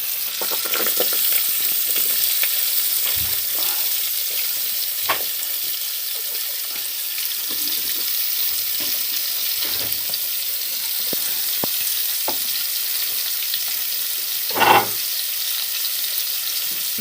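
Wild greens (Ulmera kura) cook in hot oil in a pan, giving a constant close sizzle and crackle with a few sharp pops and spatters.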